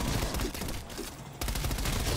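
Rapid automatic gunfire in Call of Duty Cold War Zombies, a loud continuous burst that dips briefly in the middle and then resumes at full intensity.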